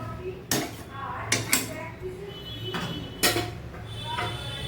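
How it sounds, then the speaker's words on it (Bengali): A spoon scrapes and knocks against a wok while masala chicken is stirred, giving several sharp metallic clanks over a low background rustle. "ভালো করে কড়াইয়ে লেগে থাকা মশলাগুলো সব মিক্সড করে নিলাম।"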